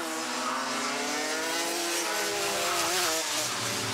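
Rotax Max Heavy racing karts scream through the S-bends at a race, a loud, close high-pitched engine whine that climbs and shifts pitch as they pass, with no talking.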